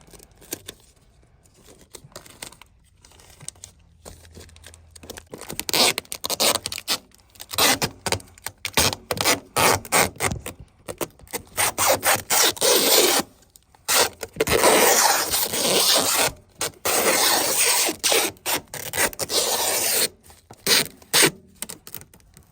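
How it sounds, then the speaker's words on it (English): Tape torn off a roll in bursts and wrapped around a dryer vent pipe on a roof, with repeated loud ripping and crinkling sounds in irregular pulses separated by short pauses, close and without talk. "I usually put a little strip of tape just to hold it in place, and then I'll wrap it with some more tape to keep it stable."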